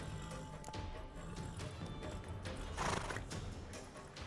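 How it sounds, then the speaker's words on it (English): A horse in The Witcher 3: Wild Hunt whinnies amid a steady clatter of hooves and game ambience, with a louder burst partway through; no one speaks. "Get on the horse."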